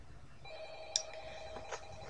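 A telephone ringing during a night shift in the Five Nights at Freddy's video game, heard as short bright ring bursts over a low electronic hum, fairly quiet and with no speech.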